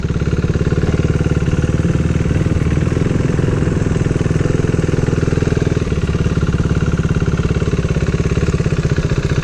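A motorcycle engine runs loud and close with a steady throbbing, rapid-firing pulse, holding fairly even with only slight shifts in tone.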